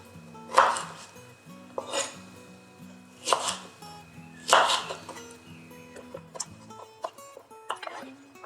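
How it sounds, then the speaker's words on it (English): A knife chopping a lemon into wedges on a cutting board, with distinct, fairly close thuds about every second and a half and quieter small cuts and handling noises between them. "There you have the lemon cut up into wedges that you could use for garnish"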